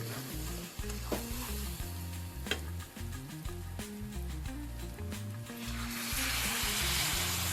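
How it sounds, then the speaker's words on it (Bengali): Fried mutton curry sizzles loudly in a pan as water goes in, a hissing crackle over rhythmic low clattering, with the hiss swelling and brightening toward the end. "এবার এর মধ্যে জল দিয়ে দেবো"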